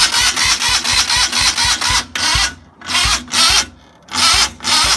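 A Joyner Sand Spider 650cc engine with a timing fault is cranked by the starter, chugging rhythmically. It catches in loud, roaring bursts, cuts out between them and pops, heard close up with no talking.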